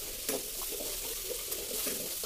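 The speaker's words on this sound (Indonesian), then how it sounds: "Ditumis sampai bumbunya itu matang atau berbau harum ya." Blended chili spice paste with lemongrass and bay leaves sautéing in a pan, a steady bright sizzle with a few soft stirring scrapes and clinks, close and alone without speech.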